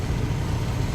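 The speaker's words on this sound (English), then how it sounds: "so we idle the engine." A truck engine idles steadily, keeping the air conditioner running; a continuous low rumble holds level throughout, close and fairly loud, with no voices.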